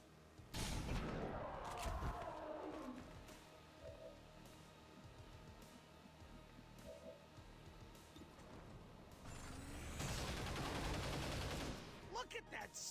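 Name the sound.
rapid fire gunshots in video game XCOM Long War of the Chosen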